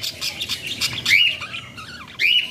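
Small budgerigars kept in a rooftop cage give sharp, rising chirps and squawky calls, a couple of louder bursts standing out over a steady background of fainter twittering.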